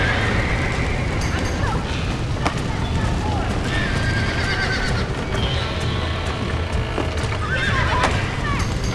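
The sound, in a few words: horses neighing and hooves, video game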